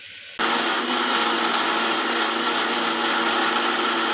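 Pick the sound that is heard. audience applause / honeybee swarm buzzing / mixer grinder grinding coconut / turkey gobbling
mixer grinder grinding coconut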